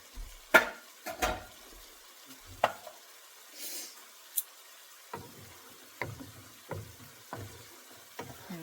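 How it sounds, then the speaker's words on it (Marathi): Turmeric and chilli powder masala frying in oil in a pan, a soft low sizzle under intermittent sharp clacks and scrapes of a spoon stirring against the pan, fairly quiet and close. "हे आता तेल सुटेपर्यंत फ्राय करायचं."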